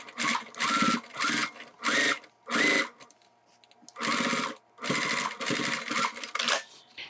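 A sewing machine stitches the back panel of a zipper wallet in repeated loud bursts of rapid mechanical whirring, each a second or less long, separated by short pauses, close up and with no talking.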